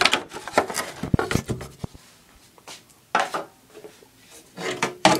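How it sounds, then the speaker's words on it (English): Knocks, rubs and wooden clatter come close up as the cover is taken off a homemade wooden bandsaw, in irregular bursts with short pauses between them and no talking. "I gotta take off the other cover here."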